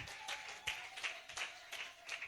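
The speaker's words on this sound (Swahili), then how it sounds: "Makofi mengi kwa mwinjilisti Judith." Worshippers in a church clap for an evangelist after her sermon, giving sparse, soft applause with a handful of distinct claps spaced through a quiet hall.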